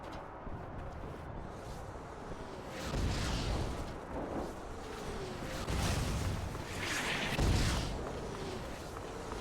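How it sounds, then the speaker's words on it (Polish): Rumbling explosions in the Mars: War Logs video game, several dull booms swelling over a continuous noisy battle backdrop, moderately loud with no clear gaps. "Co to za wybuchy?"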